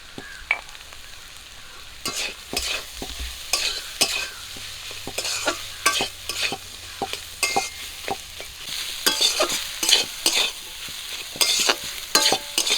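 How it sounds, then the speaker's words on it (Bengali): Potato pieces fry with turmeric, salt and chili powder for egg chop filling, a steady sizzle broken by repeated scraping stirs of a spoon against the pan, close and moderately loud. "আলুটা কিছুক্ষণ ভাজবো"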